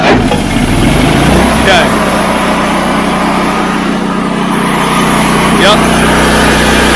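A portable sawmill engine runs loud and close at a steady drone while the blade is engaged, and short spoken replies come through over it.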